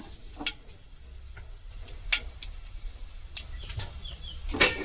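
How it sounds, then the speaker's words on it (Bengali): Dried red chillies, cumin and ajwain spluttering in hot oil, giving sparse, fairly faint crackles and sharp pops scattered over a low hiss. "এখন তেলের মধ্যে এটা দিয়ে দিম মরিচটা ফাটাইয়া দিম"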